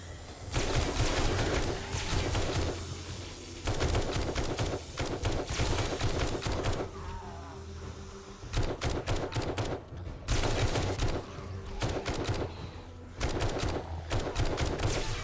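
Bursts of rapid gunfire in 7 Days to Die as players shoot at zombies: loud, dense volleys separated by brief pauses.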